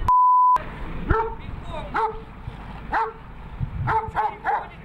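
A dog that has just been let loose barks and yelps in short, loud bursts at close range. People talk over the barking, and a brief steady beep comes first.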